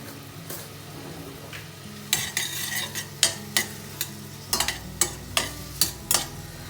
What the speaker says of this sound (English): I have added the onions and the peppers now, and we'll give them a good stir.